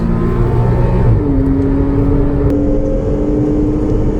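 Porsche race car taking a fast sweeper on a damp race track, its engine loud and close, revving down then settling into a steady, rising drone through the bend with no voices.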